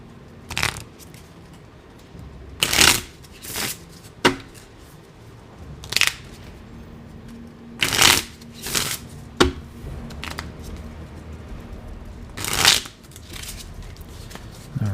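Playing cards are shuffled and dealt in short, crisp bursts of riffling and snapping, spaced irregularly with quiet gaps between, close and without talk.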